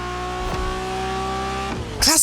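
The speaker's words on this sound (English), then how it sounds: "Cars like the Honda NSX with a V6 engine sound so godly." In the video game The Crew Motorfest, a Honda NSX V6 engine drones steadily with clear harmonic tones under a voice, ending with a sudden louder rev and a rising whine.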